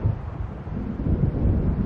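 A storm building in Alan Wake Remastered: steady low rumbling thunder and gusting wind over waves, a continuous dense roar that swells slightly toward the end, with no voices.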